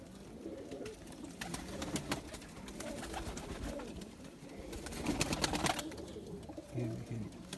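Soft, low cooing from zeera breed pigeons in a home loft recurs against rustling, clicks and flutters, with a faint voice now and then.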